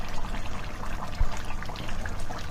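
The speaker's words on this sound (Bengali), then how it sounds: "এই যে এবার টমেটোগুলো এক এক করে ছেড়ে দিচ্ছি।" Fresh tomatoes dropped one at a time into a simmering katla fish curry, with a steady bubbling simmer throughout and one soft, brief plop near the middle.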